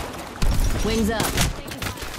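Gunfire in Apex Legends rattles in a dense burst starting about half a second in, continuing under a shouted voice and game effects for the rest of the short stretch.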